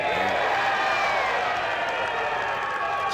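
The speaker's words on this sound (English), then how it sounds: "Cheers from the crowd." A crowd at a fishing match cheers and claps in a steady, dense roar, with some talk mixed in.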